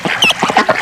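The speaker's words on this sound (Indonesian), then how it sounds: "seekor bebek" A duck quacks in a quick run of five or six loud, nasal quacks, close and clear with no other sound.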